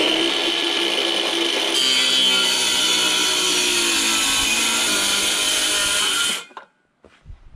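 A power saw cuts through a wooden peak in a continuous, loud grinding whine that changes tone partway, then stops abruptly, leaving a few faint knocks.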